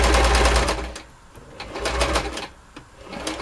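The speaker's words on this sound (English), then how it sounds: "This first seam we're going to sew." A sewing machine stitches the first seam of a fabric door stop, running in a fast, steady mechanical whir that slows and dips partway through, then picks up again, close and loud.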